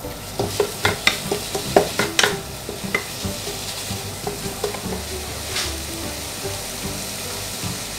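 Noodles stirred through soy sauce in a pan with chicken and mushroom, rhythmic scraping strokes about every half second over a continuous close sizzle that gradually calms.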